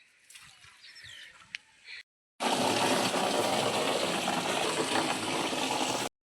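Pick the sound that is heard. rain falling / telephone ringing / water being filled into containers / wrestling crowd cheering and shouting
water being filled into containers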